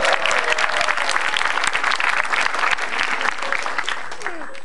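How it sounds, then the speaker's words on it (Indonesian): Steady applause from a stand-up comedy audience in Indonesia fills the room, dense and continuous, easing slightly toward the end. "Tepuk tangan buat lu semua,"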